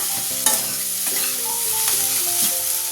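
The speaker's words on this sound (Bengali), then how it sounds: "থোড় ভাজা হচ্ছে" Banana stem (thor) fries in a pan and is stirred, giving a close crackling sizzle punctuated by sharp scraping strokes, with tonal music playing behind it.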